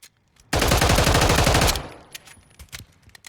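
CAA RONI G-1 carbine firing full-auto in Call of Duty: Modern Warfare III, one loud rapid burst of about a second with a quick trailing echo, then near silence.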